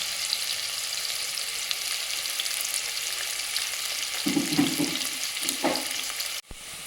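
Onions sautéing in a pan for Tamil mutton gravy, a steady soft sizzle running throughout, with a brief louder stirring scrape near the end before it cuts off.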